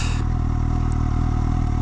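A Suzuki GSX-S 750 motorcycle rides along a winding country road, its engine humming steadily and close, with gear changes folded into the continuous drone.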